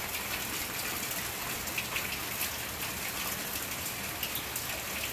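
Steady rain patters onto a tarp during a hammock setup, a dense, even hiss of drops close by, with a few slightly louder taps and no talking.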